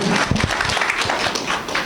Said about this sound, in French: qu'on peut applaudir ce soir